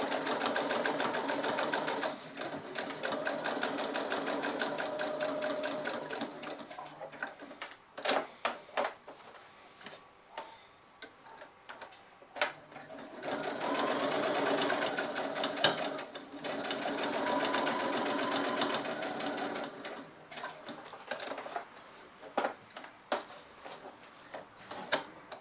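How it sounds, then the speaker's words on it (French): A sewing machine stitches denim strips for a patchwork bag in a series of bursts and pauses, whirring rapidly through each run, then stopping briefly before resuming, with no speech. "je suis en place pour coudre"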